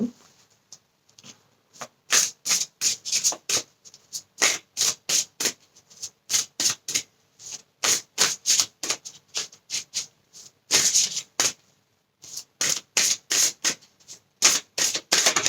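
Gaia oracle cards are shuffled by hand in a long run of quick, crisp riffling bursts, close and fairly loud, repeating in an uneven rhythm with brief pauses between them and no voice.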